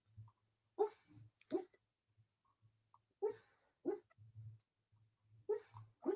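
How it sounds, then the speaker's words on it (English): A sleeping dog whimpers and lets out soft muffled yips while dreaming, in short bursts separated by quiet pauses, close by and alone. "my dog's dreaming"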